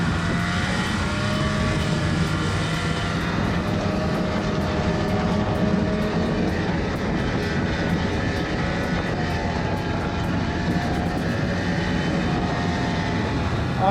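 Snowmobile engine droning steadily while riding through snow, a loud continuous motor roar with a rising and falling pitch and no break for the full stretch.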